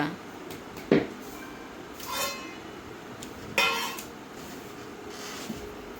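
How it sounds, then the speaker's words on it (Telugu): A metal lid set onto a cooking pot in a home kitchen gives a few sharp clanks and clinks spaced apart, close by, over quiet room noise. "మూత పెట్టేస్తాను ముందు చల్లారి"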